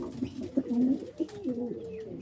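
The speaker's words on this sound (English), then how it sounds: "there's an awful lot of pigeons here" Racing pigeons coo softly at a loft, a few low rolling calls overlapping at close range amid faint background noise.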